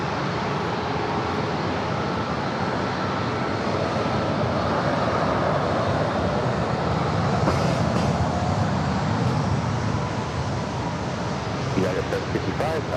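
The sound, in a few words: Southwest Boeing 737-700 taking off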